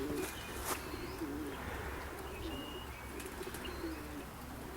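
White racing pigeons, old and young birds in training, coo softly at a moderate distance in repeated low rolling calls, with faint chirps and outdoor background noise around them.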